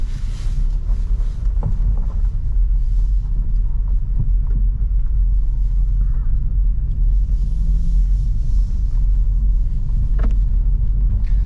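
A 2022 BMW Z4 2.0 sDrive convertible cruising with the windows up, a steady low engine and road rumble filling the cabin, with faint tyre hiss and no talking.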